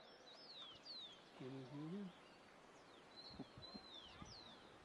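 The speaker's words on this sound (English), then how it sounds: "you can hear the birds all around you" Birds chirp all around in an outdoor spot in Peru, with faint scattered tweets and whistles at a distance and a brief low cooing call, while a voice murmurs quietly in the background.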